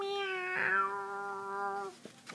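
A cat meows and howls outside a door, one long drawn-out harmonic wail lasting about two seconds, followed by a couple of small clicks and rustles.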